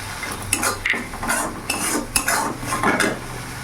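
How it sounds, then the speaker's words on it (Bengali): Mustard paste and slit green chillies being stirred in a pan for a hilsa dish: repeated scraping and clinking spoon strokes against the pan over a soft background sizzle, close and moderately loud. "একটু নাড়াচাড়া করে নিলাম"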